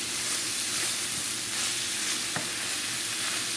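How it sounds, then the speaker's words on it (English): Vegetables frying in a pan for Jamaican ackee and saltfish, a continuous loud sizzle with faint scraping from stirring, close and steady, no voices. "So remember, guys, you have to keep stirring."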